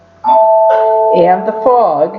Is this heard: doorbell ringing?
yes